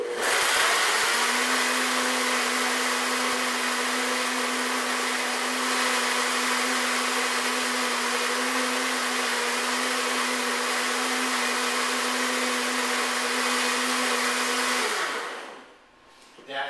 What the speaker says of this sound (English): blend them in a little bit here